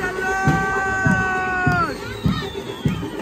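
A crowd, including shouting children, cheers loudly at a Bahiridev idol immersion, with steady drum beats roughly every half second and high whistling tones rising over the noise.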